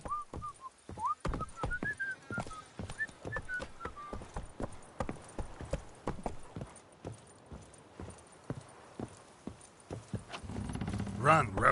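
Roach the horse from Witcher 3 Wild Hunt gallops in steady rhythmic hoofbeats across the ground, while a whistle sounds near the start and a whinny or call rises at the end.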